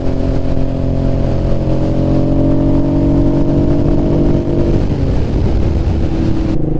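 A Honda NT650 motorcycle is ridden, its engine humming loud and steady up close, then the tone shifts and roughens near the end as the revs drop.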